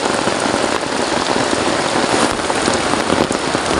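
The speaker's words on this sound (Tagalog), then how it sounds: "medyo umina na ang ulan. Pero tuloy pa rin" Heavy rain pours steadily on the shore of Dagatan Lake in Gunao, Dolores, a dense, unbroken roar with no letup across the stretch and no one talking.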